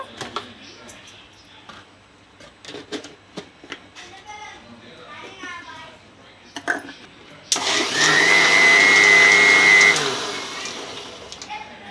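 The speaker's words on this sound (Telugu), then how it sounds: "తగినంత ఉప్పు వేసుకొని మళ్ళీ గ్రైండ్ చేసుకుందాం మళ్ళీ మిక్సీ చేసుకుందాము" An electric mixer grinder blends masala buttermilk with added salt in a kitchen. After several seconds of speech, a loud steady motor whine runs for about two and a half seconds, then winds down and stops.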